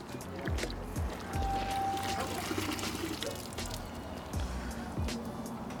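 Water splashes and pours in uneven bursts against a car during a soap-and-water wash, with soft thuds and dripping, the noise of washing outdoors.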